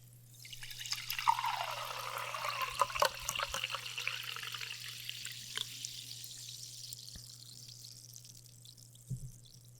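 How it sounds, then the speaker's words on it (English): Liquid is poured into a cup close to the microphone, a bright trickling splash that rises and settles over several seconds, then a couple of soft drips and a light clink under a constant low hum. "this is really going to sound amazing when I pour it into my cup"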